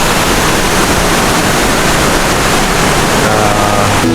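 Steady broadband rush of a waterfall at Tasik Kenyir, loud and continuous throughout with no pauses or voices.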